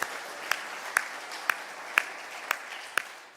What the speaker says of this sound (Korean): 우리 찬양대를 위해서 그리고 또 우리 현악반 위해서 뜨거운 격려의 박수 한 번 더 주시기 바랍니다.